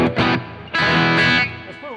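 Electric guitar strums power chords with light distortion, a short chugging burst, a pause, then a longer sustained chord, loud and close, with a brief bend at the end.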